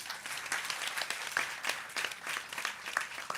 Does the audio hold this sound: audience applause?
yes